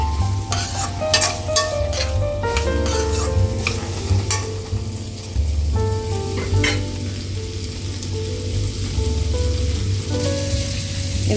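Onions and spices for paneer butter masala frying and sizzling in a pan, stirred with a spoon that scrapes and clinks now and then, a steady close hiss throughout with no voices.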